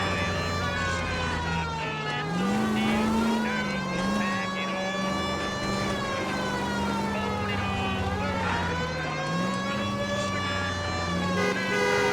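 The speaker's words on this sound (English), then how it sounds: "Siren is so annoying." A loud police car siren in the video game L.A. Noire rises and falls continuously, sustained and close, with engine rumble underneath.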